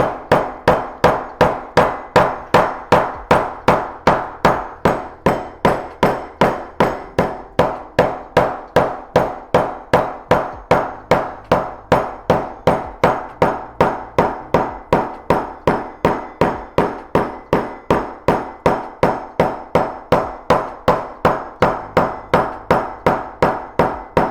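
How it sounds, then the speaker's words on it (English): Steady, rapid hammering to flatten metal, roughly two ringing blows per second, close and loud, continuing without pause and with no voices. "I'm gonna be hammering this down next, so that's another way to help flatten it"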